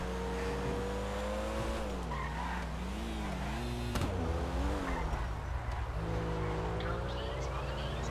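Hyper car in GTA 5 revving hard at speed, engine pitch climbing and dipping through gear changes with tire squeal, loud and continuous, with a brief crash-like burst midway.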